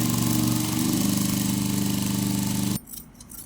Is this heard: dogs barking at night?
no